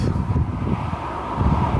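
Strong wind buffets the microphone with a continuous low rumbling roar, gusting unevenly throughout.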